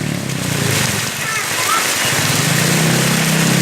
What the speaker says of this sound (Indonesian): Hujannya deras banget.